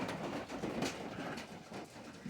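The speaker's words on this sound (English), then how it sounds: "Hear my pigeons going off of the roof there." Startled pigeons burst off a roof, giving a steady, fairly faint rush of flapping wings that carries on throughout.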